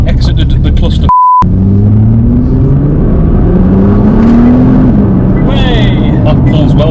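A Nissan GT-R R35 engine pulls hard under acceleration, its rising harmonics sweeping steadily upward over several seconds in a loud, close, continuous roar, with a brief beep near the start and a faint higher whine toward the end.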